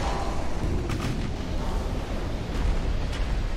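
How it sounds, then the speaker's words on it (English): Explosive ammunition detonation aboard a warship in a naval battle game, a sustained roaring blast rumble with sharp bursts near one and two and a half seconds, loud and continuous with no voices. "there's an ammo detonation sinking"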